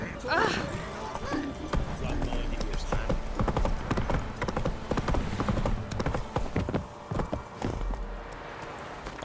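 Roach the horse galloping in The Witcher 3: Wild Hunt: rapid, close hoof clip-clops in a steady driving rhythm, with someone talking over them.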